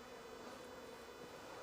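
Honeybees crowd a hive frame of brood and nurse bees, giving off a steady, faint, close buzzing hum that stays even throughout with no talking.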